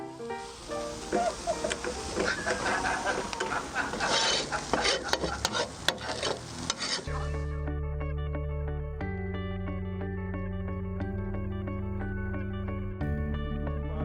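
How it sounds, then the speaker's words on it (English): Burgers frying in a pan give a close, busy sizzle with stirring and scraping for about seven seconds, then give way to steady music. "So the burgers are cooking away nicely."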